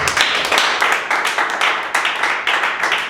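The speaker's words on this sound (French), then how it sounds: "On peut applaudir ça." Audience applause at a Fondation Acacia ceremony in Lualaba province: dense, steady clapping from a crowd, loud and close, with rhythmic swells throughout and no voices over it.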